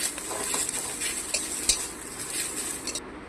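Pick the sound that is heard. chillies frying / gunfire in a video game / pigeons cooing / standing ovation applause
chillies frying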